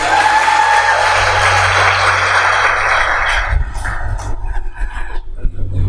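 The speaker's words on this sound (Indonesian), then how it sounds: "tepuk tangan yang sekali lagi meriah untuk beliau" Audience applause for a speaker at a formal address, a loud continuous clapping wash that breaks off after a few seconds into scattered noise and low rumble.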